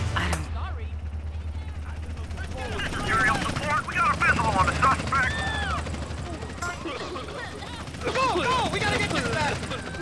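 Police helicopter in GTA San Andreas, a steady rotor drone throughout with sporadic gunfire, a radio voice speaking over it.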